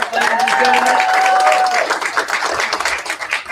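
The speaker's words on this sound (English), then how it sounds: "Give Carmen a round of applause, ladies and gentlemen" Audience at a congressional district candidate forum breaks into loud applause for a speaker, clapping close and full at first with a sustained tonal note over it, then thinning out toward the end.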